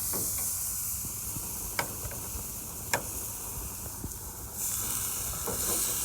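Chicken kebabs brushed with barbecue sauce sizzle on a barbecue grill, a steady broad hiss with a few sharp ticks and pops, fairly close and alone without voices.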